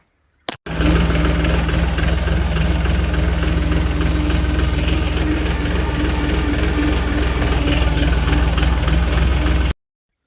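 A parked tractor's diesel engine idles with a loud, steady low rumble and a constant vibrating hum. It starts after a brief click and then cuts off abruptly near the end.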